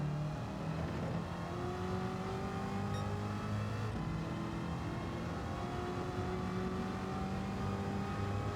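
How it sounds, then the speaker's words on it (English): Corvette Stingray Racer Concept in Gran Turismo 7 accelerating on a Le Mans circuit, engine tone climbing through repeated gear changes, steady and prominent with no talk over it. "The car accelerates beautifully."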